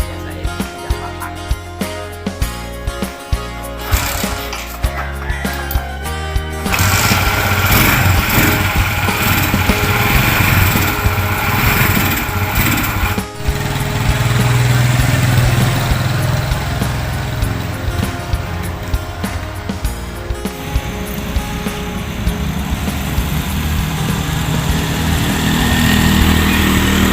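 A small motorcycle engine runs continuously while riding, a steady loud drone with shifting pitch as it speeds and slows, with no talk over it.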